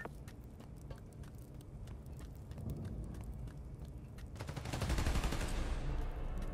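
Bursts of gunfire in the video game Spider-Man: Miles Morales, quiet and somewhat distant at first, then swelling into a denser, louder volley near the end.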